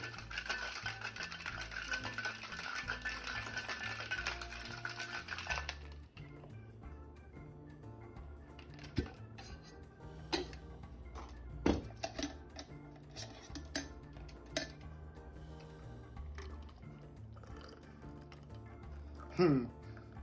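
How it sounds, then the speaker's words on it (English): Cocktail shaker with ice shaken hard for a Creamsicle cocktail, a dense rattling clatter for about six seconds that stops abruptly, followed by quieter clinks and handling knocks while a person talks. "You want to hear that cling clang when you shake it."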